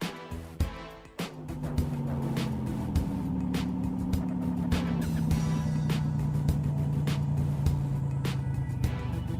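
A Blaze and the Monster Machines toy car drives along a toy road, its small motor giving a steady whine that slowly drops in pitch, with scattered clicks and rattles close by.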